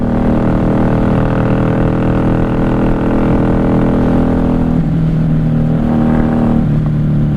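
The engine of a 1994 Honda Magna 750 VF750C motorcycle, which has carburetor trouble, runs loudly at a steady idle up close with a slightly uneven tone, and its pitch dips a couple of times toward the end.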